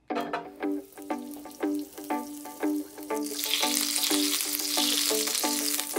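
Beef steak sears in a small pan, a rising sizzle that swells to a steady, loud hiss after several clipped knocking sounds at the start, heard close with no voices.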